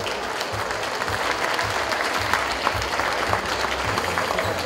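An audience at a youth football team presentation gala claps steadily and densely, a loud continuous wash of applause with no voices over it.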